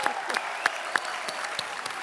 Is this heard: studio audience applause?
yes